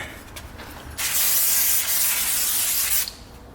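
Brake cleaner sprays in a steady hissing burst onto a Jaguar XJ brake rotor, lasting about two seconds, close and loud, with quiet shop noise before and after.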